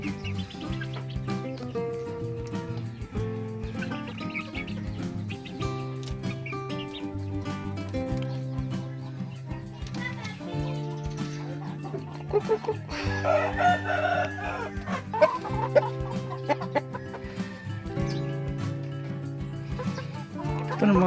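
Chickens in a coop cluck and crow together, dense overlapping calls with repeated rooster crows, fairly close and continuous throughout.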